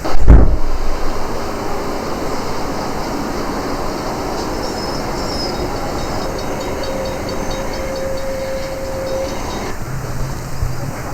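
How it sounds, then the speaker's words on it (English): A commuter train rolls and brakes to a stop, a steady broadband rumble with a faint high brake squeal that fades near the end, recorded from nearby with no voices. "the commuter train has managed to brake hard enough to come to a complete stop right in the nick of time"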